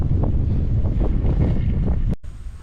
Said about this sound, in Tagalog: Mukhang hindi makakapagpalipad ng drone kasi ngayon ganitong sobrang hangin dito